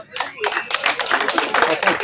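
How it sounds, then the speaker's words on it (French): An audience claps at a traditional chief's investiture ceremony, loud, close, dense clapping from many hands filling the clip, with voices mixed in. "On applaudit s'il vous plaît."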